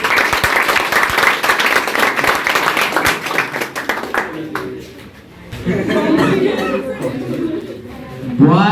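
Students in an English class clap together for about four seconds, a dense burst of handclaps that then gives way to voices talking and chuckling.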